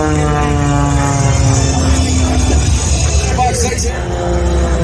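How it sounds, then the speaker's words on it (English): An aerobatic propeller airplane rolls through manoeuvres at an airshow in Columbus, Mississippi, its loud, continuous droning engine filling the air while an announcer talks over it. "airplane comes right back down the 45-degree down line,"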